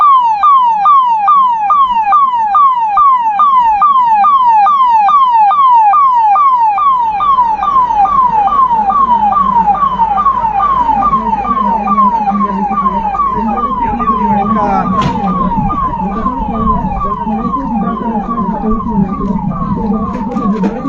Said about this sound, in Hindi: देखिए एम्बुलेंस यहाँ पर आ चुकी है